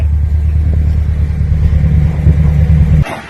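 A Subaru STI engine running on a Haltech ECU, a loud, close, deep rumbling idle with a steady pulsing throb that cuts off abruptly near the end.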